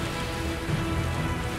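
A rain spell cast in the video game Magicka makes a steady, dense hiss of falling rain that stays even and fairly loud throughout.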